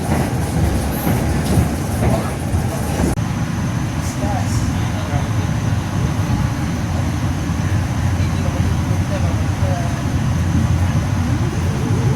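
Tegal Bahari executive train heard from inside a carriage while riding the rails: a loud, continuous rumble with rhythmic wheel clatter and rattling, steady throughout.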